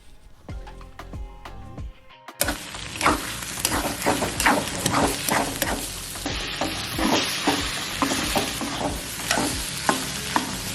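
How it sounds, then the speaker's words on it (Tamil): Food salted in a hot pan is stirred and fried. Quiet clinks give way after two seconds to loud continuous sizzling, punctuated by repeated scraping strokes of the spatula. "உப்பு போட்டுட்டு ஜஸ்ட் அதை கிண்டி விட்டுட்டே இருங்க."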